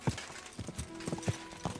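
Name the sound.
horse hooves clip-clopping in the video game Kingdom Come: Deliverance II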